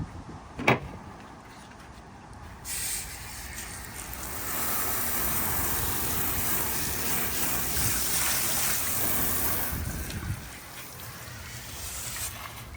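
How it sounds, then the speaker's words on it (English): Water is hosed over a boat hull during wet sanding, a continuous close rushing spray that swells in the middle and then eases, preceded by a sharp knock, with no voices. "Give it another rinse down."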